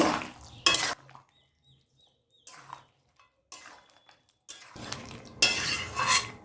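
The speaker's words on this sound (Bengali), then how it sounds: "আম আর ভাজা মশলার গুঁড়োর সঙ্গে নাড়াচাড়া করব" A spoon scrapes and stirs mango chicken curry with roasted spice powder in a pan in several short bursts, separated by quiet pauses.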